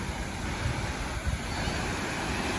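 Water washes in and rolls over the shore in a steady, broadband rush, with light wind buffeting the microphone and no voices.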